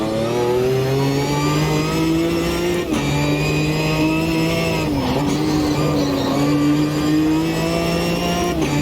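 A Ginetta GT4 race car engine in the racing game Automobilista 2 revs loudly and continuously, pitch climbing with brief dips at two gear shifts, with no talk.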